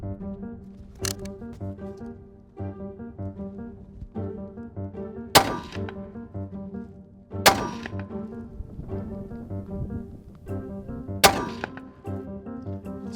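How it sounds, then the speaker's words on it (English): Three sharp rifle shots ring out several seconds apart over a steady tonal music bed while a shooter fires a three-shot group to confirm zero, with a fainter knock earlier on. "I'm gonna confirm zero by shooting a 3-shot group"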